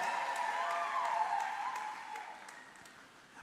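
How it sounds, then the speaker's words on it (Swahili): Church congregation ululating in celebration during a sermon, a sustained bright trilling chorus filling the room for about three seconds before fading, with a sharp sound at the very end. "Pigeni vigelegele vinavyoeleweka vya shangwe."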